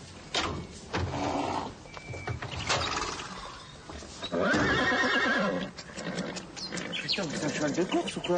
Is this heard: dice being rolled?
no